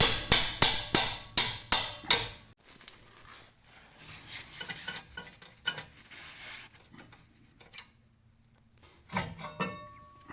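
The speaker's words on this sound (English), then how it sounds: "we're gonna remove this bolt right here and this one right there" Rear caliper bracket bolts being removed from a 2020 Honda Odyssey: a fast run of six sharp rattling impact-wrench bursts, then softer metallic clinks and handling noises, with another short rattle near the end.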